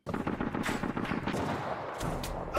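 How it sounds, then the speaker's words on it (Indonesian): Rapid bursts of gunfire crackle in dense succession, sounding like an automatic weapon in a game, loud and continuous with a brief shift near the end. "Tembakan dilepaskan secara presisi"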